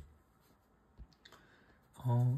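A cancel button pressed on an NPC-1000 card payment terminal: a few faint soft clicks, then a loud, steady electronic beep at the end, with no voices.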